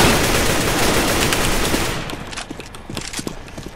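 Gunfire in the video game CS:GO, a dense continuous burst of rapid shots for about two seconds, then scattered separate shots and clicks, loud and close.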